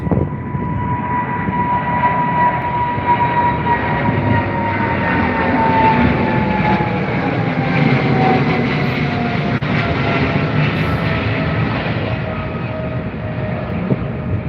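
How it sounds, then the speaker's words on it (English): A British Airways Boeing 777 at London Heathrow roars continuously with a loud, broad jet rumble and a slowly gliding engine whine, steady throughout without speech. "Boeing 777 with British Airways right here at London Heathrow."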